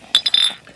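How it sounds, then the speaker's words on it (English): Glasses clink together in a few quick, bright, ringing taps that fade within a second. "Clink the glasses, Carl."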